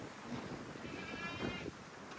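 Goats on a farm bleating in short wavering calls close to the microphone, set against steady outdoor background noise.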